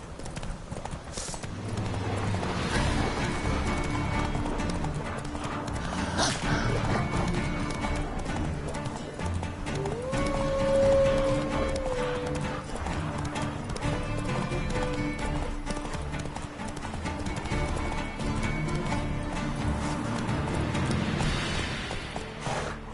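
Roach, a horse in The Witcher 3 on PS4 Pro, gallops with steady rhythmic clip-clop hoofbeats, loud and continuous throughout, over game background sound with a brief tonal whine in the middle.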